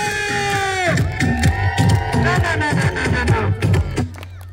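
A loud crowd cheers and shouts along with rhythmic, pulsing music at an outdoor clown show in El Acebuche, Guanajuato, voices rising together before dropping off at the end.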